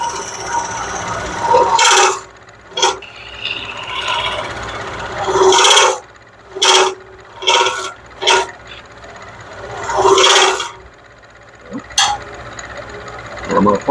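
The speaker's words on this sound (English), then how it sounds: "Get in there a little bit tighter with the detail gouge." Detail gouge cutting into a wooden turning on a lathe, giving bursts of rasping scrapes in short passes between quieter stretches, close and fairly loud over a low motor hum.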